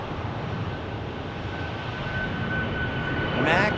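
A Boeing 737 Max airliner departs Phoenix Sky Harbor for Honolulu, a continuous broad engine rumble building gently, with a brief higher whine near the end.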